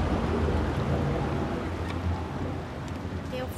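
Water draining and lowering in the video game Little Nightmares, a steady broadband rushing and churning that holds fairly loud throughout and eases slightly toward the end, with no talk over it.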